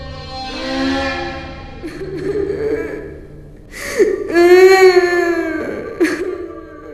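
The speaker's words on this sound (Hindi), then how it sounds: "उन्होंने फिर से उस औरत की रोने की आवाज सुनी" In a Hindi horror story, a woman's crying sound effect comes through as drawn-out, wavering wails and whimpers with gasping breaths in between, rising to a louder sobbing cry near the end.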